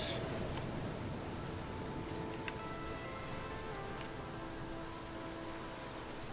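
Steady rain in the video game The Flame in the Flood falls continuously, a dense hiss of drops with occasional sharper ticks, no voices and no breaks throughout.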